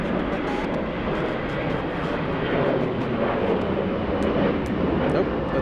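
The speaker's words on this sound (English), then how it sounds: "WestJet coming in. 4-hour flight from Edmonton." A WestJet airliner landing at Atlanta's Hartsfield-Jackson airport gives a steady, broad jet-engine roar heard from a distance, holding even for the whole stretch with faint speech mixed in.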